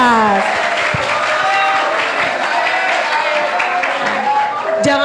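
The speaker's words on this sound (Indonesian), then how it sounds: "Tepuk tangan dong buat SMA 16." Steady applause from a crowd fills the whole stretch, dense and loud, with a few voices rising over the clapping.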